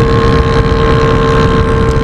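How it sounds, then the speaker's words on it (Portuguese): A pink Yamaha XJ6 motorcycle fitted with an 8-inch exhaust pipe roars nearby, a loud, dense, unbroken drone with a steady tone throughout. "Esse escape aqui é arrasto demais"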